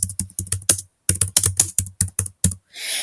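Quick, crisp key taps on a computer keyboard, in two bursts of steady typing separated by a short pause, close and clear.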